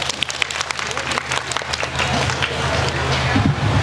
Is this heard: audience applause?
yes